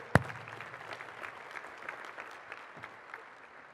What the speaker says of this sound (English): let's give a big round of applause for our sponsors and Jim Mertens, our MC today.